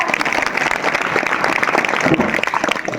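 An audience at a kirtan claps together in steady, dense applause, loud and sustained, with a voice faintly under the clapping.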